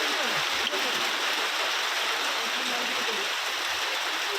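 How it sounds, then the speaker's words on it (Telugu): Heavy rain pours over Hyderabad as a dense, steady hiss that fills the whole stretch without a break, loud and unvarying, with no voices over it. "ఇక హైదరాబాద్ వ్యాప్తంగా పలు ప్రాంతాల్లో వర్షం కురుస్తుంది."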